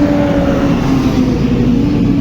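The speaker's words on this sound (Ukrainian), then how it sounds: "трактор." A tractor engine passing close by, a loud steady low rumble with a droning tone that holds evenly throughout the short stretch.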